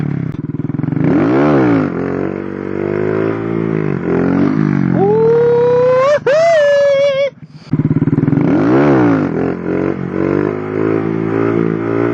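A Honda Grom motorcycle revs hard during a clutch-up wheelie, a loud buzzing engine that climbs sharply in pitch, cuts off briefly, then settles back to a steady near idle-to-midrange drone.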